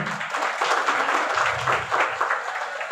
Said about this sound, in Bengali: আপনারা করতালি দিয়ে সমর্থন জানাবেন।